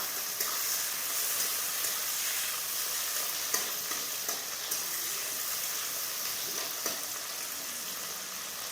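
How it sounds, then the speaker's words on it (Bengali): Tomato and onion fry in a pan for a fish curry, a constant bright sizzle with occasional stirring scrapes and clicks, close and without talk. "টমেটো পেঁয়াজ একটু ভাজা হয়ে যাক"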